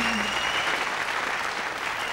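A television studio audience claps in long, sustained applause, a dense, even roar of many hands that holds steady without a break.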